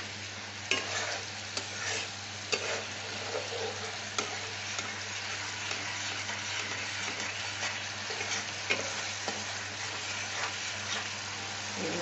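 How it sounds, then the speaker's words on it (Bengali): Spice paste (masala) sizzling and frying steadily in a pan, with intermittent scraping and clinking as it is stirred, continuous and close with no voices. "মশলাটা কষাবো তারপরে।"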